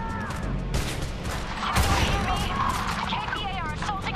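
Rapid gunfire from the video game Homefront: The Revolution, a dense crackling barrage that runs steadily through the whole stretch, with voices talking over it.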